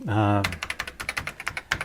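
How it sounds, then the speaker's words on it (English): Fingers type on the keyboard of an Atari 520 ST computer, giving a quick, fairly close run of clacky keystrokes, with a brief voice at the very start. "this is one of the better 520 ST keyboards that I've typed on"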